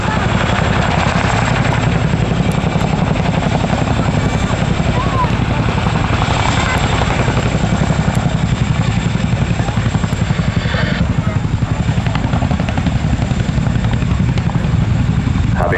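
A Royal Air Force Boeing Chinook HC.6 hovers at an air show, its twin rotors producing a loud, steady, close thudding roar that holds unbroken throughout, with a voice heard faintly beneath the din.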